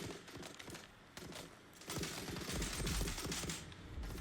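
In the Dune: Awakening video game, a deployed turret fires rapid bursts of sharp gunfire-like shots that build into a dense, continuous volley.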